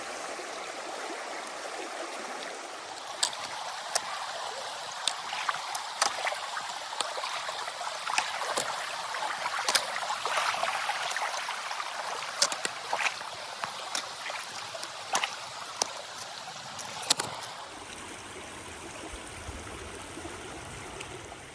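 A stream flows across a hiking trail in the Ozark Highlands, a steady rushing wash of water broken by sharp splashes and clicks of footsteps wading through, nearby and continuous before fading at the end.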